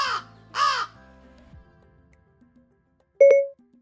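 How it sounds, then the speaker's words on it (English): Two loud, harsh crow caws played back by a phone's voice assistant, followed by quiet low hum and a brief electronic chime. "Here's a crow."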